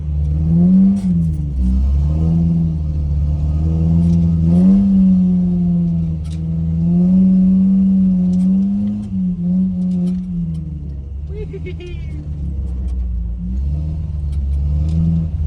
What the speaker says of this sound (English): you can't even tell I'm doing a fat drift right now